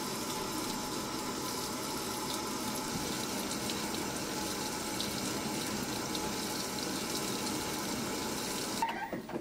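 An LG high-efficiency top-loading washer fills with water, a steady broadband rush of running water that stays close and even throughout, with a brief clunk near the end.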